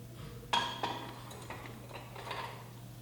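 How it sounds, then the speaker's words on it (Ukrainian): A heated metal cylinder is lifted out of hot water and transferred into a calorimeter in a school physics lab, giving a sharp metallic clink followed by a few lighter taps and knocks, close and alone. "Виймаємо нагрітий циліндр з посудини з гарячою водою і швидко переносимо його в калориметр."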